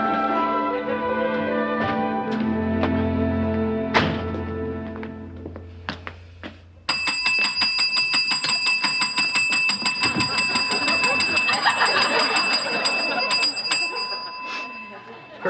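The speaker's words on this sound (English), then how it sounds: "You've been told never to ring that bell." A bell meant for guests rings with bright, repeated metallic dings, loud and continuous, over a sitcom scene, after a stretch where someone talks.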